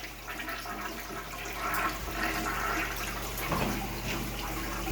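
A hotel bathroom toilet flushing nearby, a steady rushing swirl of water that swells after a couple of seconds and keeps draining loudly, with no one talking over it.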